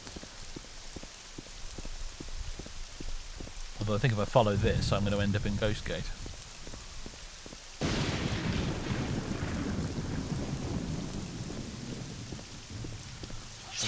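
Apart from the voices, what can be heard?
rain and thunder in the video game Morrowind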